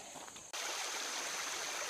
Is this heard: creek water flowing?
yes